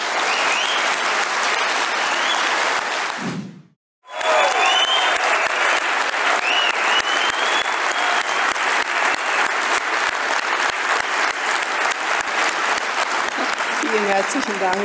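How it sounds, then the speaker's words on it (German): A large crowd at an AfD political rally applauds loudly and continuously, with a brief silence partway through before the clapping resumes, dense and sustained throughout. "Vielen herzlichen Dank für den stürmischen Applaus."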